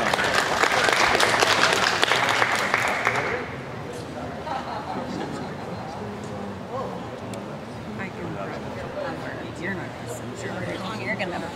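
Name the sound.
audience applause at a heifer show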